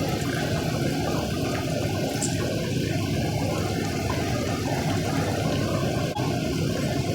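Sinigang broth with salmon boils in a pot over high heat, a steady, dense bubbling and rolling hiss that stays constant throughout with no talk.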